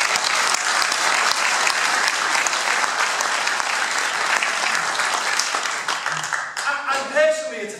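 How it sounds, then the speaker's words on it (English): Dense audience applause fills a UKIP public meeting hall in Southport, steady and loud for several seconds before thinning out, with a few voices rising as the clapping fades. "I think they deserve a round of applause"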